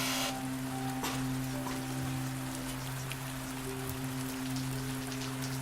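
Steady rain falls on a surface in an old-fashioned town of horse-drawn carriages and vintage motor cars, a dense even hiss under a low hum, with no talking.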